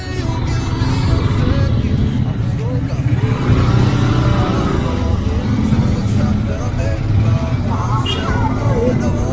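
Heavy morning road traffic roars continuously and close during a bike ride toward Jungli Dam and Karwale Dam, with engines revving and vehicles passing, and voices talking over it.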